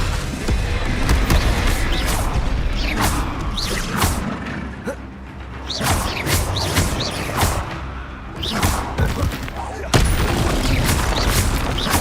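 Repeated Confringo fire-spell blasts in Hogwarts Legacy: sharp booms and cracks recur every second or so amid combat noise, with a voice speaking intermittently.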